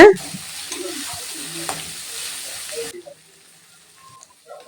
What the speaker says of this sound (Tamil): வெங்காயம் தக்காளி எல்லாம் நல்லா வணக்கி எடுத்துக்கலாங்க